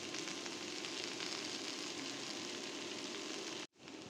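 Greens are dropped into hot oil with fried onion, garlic and dried chili, giving a dense, continuous hissing sizzle that runs steadily before cutting off abruptly near the end.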